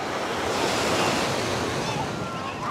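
Strong ocean waves at Sanur beach in Bali, during the west-wind season, rush and break in a loud, continuous wash of surf mixed with gusting wind buffeting the microphone.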